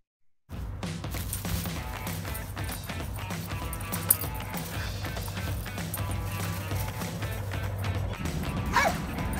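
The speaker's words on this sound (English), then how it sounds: "Our next competitor is Ollie, a 9-year-old male dog who lives in the Vanyo household" A 9-year-old male dog barks and yips repeatedly at a pet show, with quick, fairly close barks over a busy, continuous background from a brief silent start.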